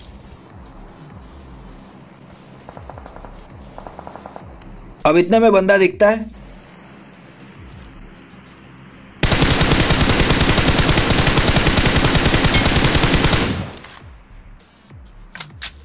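In a BGMI (PUBG Mobile) match, a dense sustained burst of automatic gunfire rattles loudly for several seconds, following quieter game ambience and a short stretch of someone talking.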